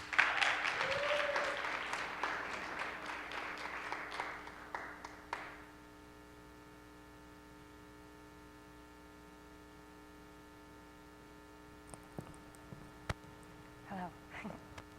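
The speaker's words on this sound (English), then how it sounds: "Please give a round of applause for Mia Suissa." TEDx audience applauding a speaker, a burst of clapping that fades out after about five seconds, leaving a quiet steady hum with a few scattered taps later.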